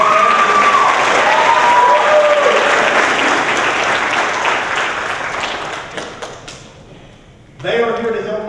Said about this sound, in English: would you just join me in giving them a round of